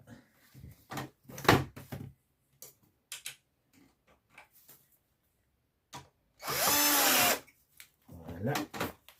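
A power drill drives screws while assembling an observation tower, one sustained whirring burst in the middle between short clicks and handling noises, with people talking nearby in French before and after.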